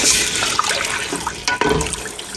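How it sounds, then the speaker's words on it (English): Water pours into a cooking pot already holding evaporated tomato sauce, a close, splashing, gurgling rush with a brief clunk partway through, heard alone without talk. "Add 4 cups of water."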